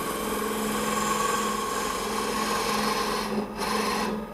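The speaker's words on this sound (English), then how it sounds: "he would rub this large bevel and just start peeling away at that center stuff" A bowl gouge peels wood from the inside of a natural-edge end-grain bowl spinning on a lathe, a steady loud rasping cut with a hum underneath and a brief break just before the end.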